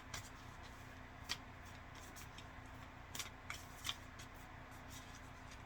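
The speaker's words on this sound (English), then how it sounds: "Get these light worker cards and pull one out." Oracle cards from a lightworker deck are shuffled and one is drawn, leaving faint soft riffling and flicking with a few small taps over a quiet hum, close and without talk.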